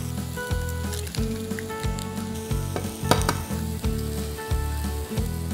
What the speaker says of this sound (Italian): Ora nella padella in cui abbiamo cucinato il pane inserisco gli hamburger.